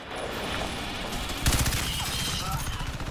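Dense gunfire in the multiplayer video game Crysis 3, a continuous rattle of rapid shots with a louder burst partway through, with no clear talk.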